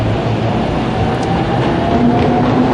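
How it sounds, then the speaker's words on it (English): A train pulls out of Akihabara station in Tokyo, its loud, steady rumble and rolling wheel noise filling the platform with no pause. "but yeah, that's the train, just leaving."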